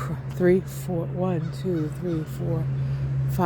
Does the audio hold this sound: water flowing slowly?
no